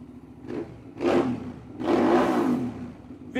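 A Hyosung 650 V-twin motorcycle engine revs in short bursts, two quick blips then a longer, louder rev, close by.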